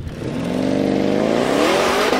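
A Porsche Panamera 4 E-Hybrid Sport Turismo's petrol engine starts up while driving, a steady rising engine drone and hum that grows slightly louder over two seconds, with no talking.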